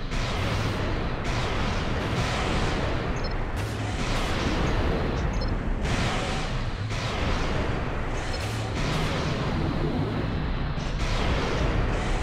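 Heavy missile explosions and weapon fire from the PS2 mech game Armored Core: Silent Line, a dense, continuous barrage of booms and blasts with repeated bursts and no pauses throughout.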